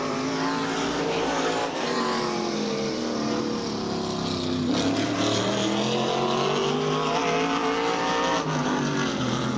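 A NASCAR Modified race car, an Oldsmobile Firenza-bodied number 26, screams around Riverside Park on a qualifying lap, its engine loud and continuous with rising and falling pitch through the turns.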